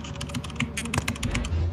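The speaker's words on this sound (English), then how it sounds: "You're clicking." Rapid keyboard clicking during a Lethal Company game session, a close, dense run of crisp key taps with no talk over it.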